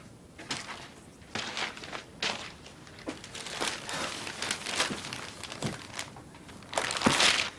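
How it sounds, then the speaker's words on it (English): Paper pages are flipped several times, each turn a crisp rustling swish, close and fairly soft, with a louder crinkle near the end in a quiet domestic room. "Not making too much noise, turning the pages,"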